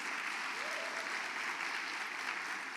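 Applause from a church congregation, a steady dense wash of clapping that fills the room evenly and keeps up throughout without individual claps standing out.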